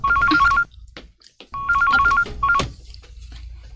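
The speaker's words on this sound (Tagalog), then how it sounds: "Ay, ba, ang telepono." A telephone rings in bursts of rapid electronic warbling trills, loud and close, with short gaps between rings and a low background hum in a home drama scene.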